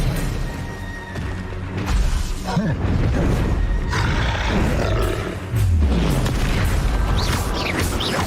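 Spell impacts and booming blasts from combat in Hogwarts Legacy, with dense roaring bursts and rumbling explosions layered over continuous game music and effects, loud and busy throughout.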